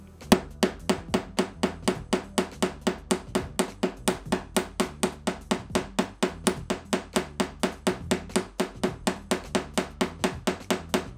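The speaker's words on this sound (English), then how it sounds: "And I do the same hammering, but this time it's going to curve a little bit more." Artistic wire hammered into a curve for a handmade scarf pin, a long steady run of about forty sharp, evenly spaced metal taps close up, with no talking.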